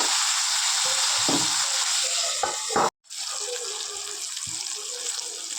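Broad beans frying in hot oil with tempering spices give a steady, close hiss of sizzling that cuts out briefly midway, then resumes just as loud.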